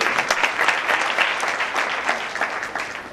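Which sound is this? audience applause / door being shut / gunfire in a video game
audience applause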